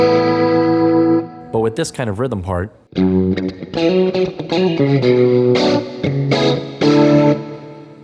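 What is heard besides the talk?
electric guitar rhythm part with too much reverb effect (Axe-Fx II)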